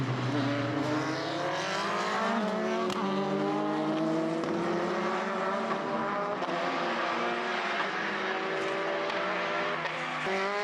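Race cars roar around Mondello Park circuit, their engines rising and falling in pitch as they accelerate and shift, loud and continuous with overlapping passes.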